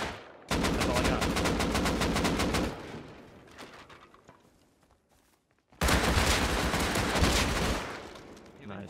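Rapid automatic gunfire from the survival video game Rust, two long sustained bursts of dense, loud shots separated by a quieter lull with faint background noise.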